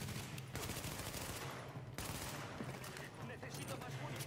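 Rapid gunfire during a firefight against enemies in Tom Clancy's The Division, dense bursts filling the whole stretch with a brief lull near the middle, loud and continuous, with voices talking over it.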